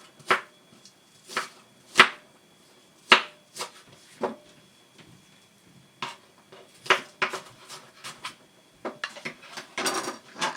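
Chopped onions are stirred in oil in a pot, with a spoon clanking and scraping against the metal in irregular, fairly close knocks and only a faint background hiss.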